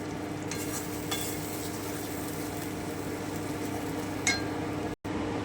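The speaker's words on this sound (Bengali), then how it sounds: "আমি একটু নেড়ে নিচ্ছি দু থেকে তিন মিনিট একটু নেড়ে নিচ্ছি খুব ভালো করে" Rajma being stirred in a pan for ghugni: soft, continuous scraping and faint sizzling under a steady hum, with a few light clinks of a spoon against the metal and no voices.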